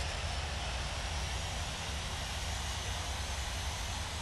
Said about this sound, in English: X-ray uniform is taking off runway 24 left, departing straight out